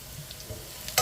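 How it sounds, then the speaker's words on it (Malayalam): Onions sautéing with turmeric, coriander and Kashmiri chilli powder in a pan for a Kerala wild boar fry, a soft steady sizzle with a brief louder stir or scrape at the end, close and alone. "ഒന്നൊന്ന് വഴറ്റാം നമ്മൾ"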